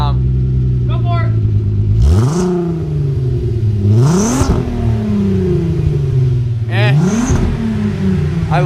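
Revving of a VW Mk4 with a VR6 engine through a long cherry bomb muffler: three sharp throttle blips rising and falling over a steady idle, loud and close, with a brief voice in the background.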